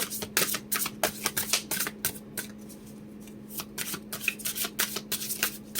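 Tarot cards are shuffled by hand close up in quick, uneven bursts of riffling flicks, with a short pause midway and a steady faint hum underneath.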